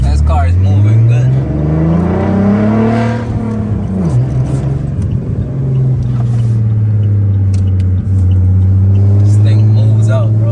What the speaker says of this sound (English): This thing is fucking moving. This car is moving good.